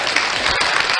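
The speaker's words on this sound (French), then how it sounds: "Des applaudissements d'abord" Applause in a radio studio, a short dense burst of clapping that is loud and continuous throughout.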